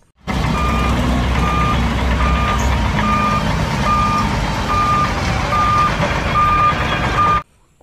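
A toy coal truck's reversing alarm beeps steadily and evenly, about ten loud electronic tones over a constant motor hum, starting and stopping abruptly.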